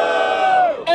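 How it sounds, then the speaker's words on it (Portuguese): Crowd at a 2016 freestyle rap battle semifinal, the Batalha do Tanque in São Gonçalo, erupts in loud cheering and shouting, a dense roar of many voices that dips briefly before swelling again. "barulho quem gostou da rima do freestyle da MC Samurai"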